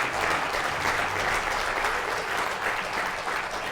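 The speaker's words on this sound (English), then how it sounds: "can we all give a round of applause to our wonderful hosts, James and Kate" Steady, dense applause fills the room at a holiday charity auction kickoff for Make-A-Wish, a continuous wash of many hands clapping at once for the evening's two hosts, sustained and even throughout.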